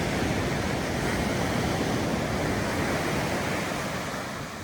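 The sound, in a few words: waves at Po'olenalena Beach, Maui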